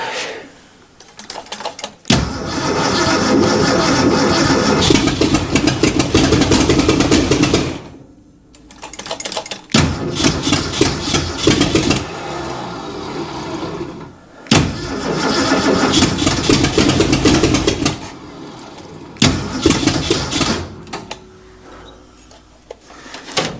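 Ford 351 Windsor V8 cranking and firing after sitting for 30 years, loud and close, catching and running roughly in several long bursts, dying out and being restarted repeatedly.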